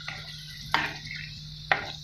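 A spoon stirs tomato concentrate sauce with olives in a pan, giving a few soft scrapes and two sharper knocks over a low, steady hum, with no speech.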